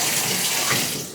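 Cold shower water runs in a steady, close hiss of spray, alone and continuous.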